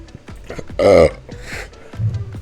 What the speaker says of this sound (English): this water's making me burp